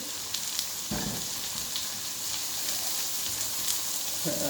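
Onions softening in a pan: an even, close frying hiss that runs throughout, with a couple of soft stirring clatters.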